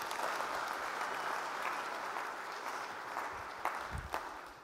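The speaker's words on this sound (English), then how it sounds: "So give him a big round of applause" Audience applause from a sizable crowd, a steady wash of many hands clapping throughout, sounding somewhat distant, with a couple of louder thumps near the end.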